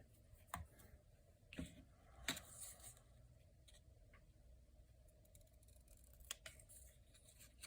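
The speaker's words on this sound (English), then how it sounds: "I'm gonna make a little pencil mark and then cut it" Scissors snip paper for a handmade card, a few sharp separate cuts spread over several seconds against a quiet room, with light ticks and rustles between them.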